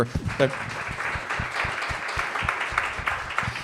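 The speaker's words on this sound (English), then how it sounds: "Round of applause, please." Audience applause at a chamber of commerce event, a moderate, fairly steady patter of clapping from a roomful of attendees with a few louder individual claps standing out.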